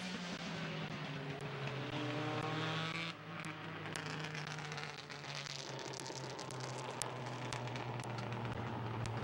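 Race cars on the oval at Midvale Speedway in Mansfield, Ohio, their engines droning loud and steady at the finish of a heat race, one car's pitch sweeping past while the rest roar on.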